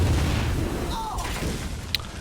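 A bomb card explodes in Hearthstone, a deep rumbling boom at the start that fades away under a brief bright chime near the end.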